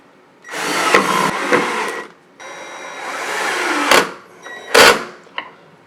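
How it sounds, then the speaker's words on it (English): A power drill drives screws up into a wooden stair tread from underneath, sounding as several close, loud whirring bursts of a few seconds each separated by short pauses, with a couple of sharp clunks. "Just need to get the screws in from underneath."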